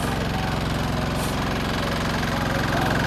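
A Kirloskar-style Cooper engine driving a pump at an agricultural exhibition in Moshi, Pune runs close by with a steady, rapid thumping beat, loud and continuous with no pauses.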